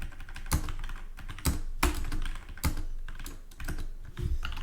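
Several lines of text typed on a computer keyboard, with a quick, close run of key clicks broken by a few heavier spacebar or enter strokes.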